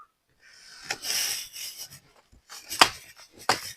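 A few sharp chopping strikes into a small palm trunk, separated by short scraping and rubbing sounds, close and fairly quiet with no talking.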